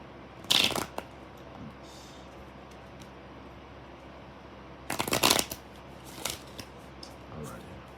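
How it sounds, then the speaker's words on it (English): A deck of playing cards is riffle-shuffled twice, two short crisp bursts of fluttering snaps with quiet gaps between them, followed by softer handling noise in a quiet room. "one last shuffle"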